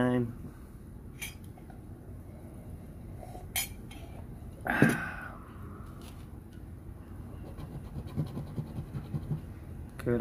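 Coin or fingernail scratching across a Florida Lottery scratch-off ticket, soft repeated scraping strokes close up, with one sharper scrape partway through, faint and intermittent over quiet room tone while a person talks.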